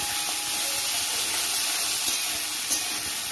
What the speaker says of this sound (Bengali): ফুলকপিগুলো আমি এখন ভেজে নেব, একদম নুন হলুদ দিয়ে একবারে মানে ভালোভাবে ভেজে নেব